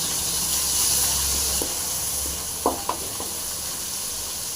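Mustard seeds and crushed garlic frying in hot oil for a Tamil bitter gourd dish, a steady broadband sizzle with a few faint pops and crackles near the pan, no talking.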